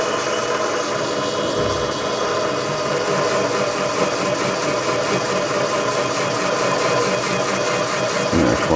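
Metal lathe taking a cut on a steel workpiece with a steel cutter insert for a spin indexer gear plate, a steady loud motor drone with a continuous mid-to-high whine and grinding texture throughout, no speech.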